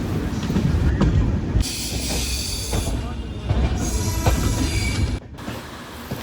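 A train rumbles into Mathura railway station with hissing brakes and squealing wheels, rolling noise rising and falling before settling.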